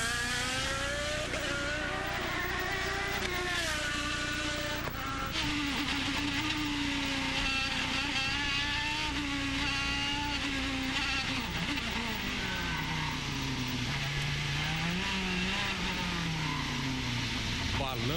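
Onboard with the race leader's IndyCar at the 2011 Baltimore round, the engine drones loud and continuous, rising and falling in pitch through gear changes while a commentator speaks over it.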